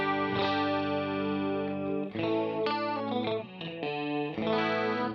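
Electric guitar played through a detune pitch effect on an Axe preset in stereo, giving sustained chorused and slightly distorted chords and notes, clean and close with no talking.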